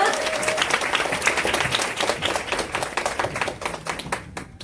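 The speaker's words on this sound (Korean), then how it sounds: "오늘 에이지락 제품군의 시연을 보여주실 김유나 강사님을 큰 박수로 앞으로 모시겠습니다" Sustained audience applause welcoming a speaker to the front of a beauty class product demonstration, a dense continuous patter of many hands that fades out near the end.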